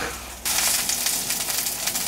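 Food coated in potato starch sizzles loudly in a hot pan, a steady frying hiss that starts abruptly and continues close up with no talking.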